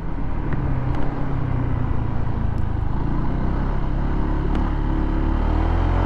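A motorcycle climbs uphill on a single steady throttle twist, its engine a loud, continuous low drone with wind rumble and no break in power, recorded close from the rider's position.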